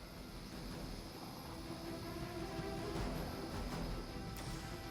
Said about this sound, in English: We have to stop that helicopter.